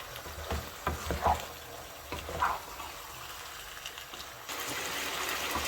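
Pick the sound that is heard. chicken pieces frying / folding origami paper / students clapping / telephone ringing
chicken pieces frying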